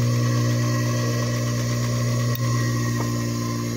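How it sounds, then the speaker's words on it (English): An old Craftsman electric motor, rated around 3450 RPM at 115 volts, runs at full speed with a loud, steady hum that does not change. "That's right up to full speed. Supposedly spins at 3400 or 34 and a half or 3450 RPMs"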